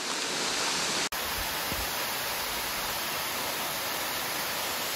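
Waterfall at Piney Creek Falls, a dense, steady roar of rushing water, loud and close, briefly cut by a sharp break near the start before the continuous hiss resumes.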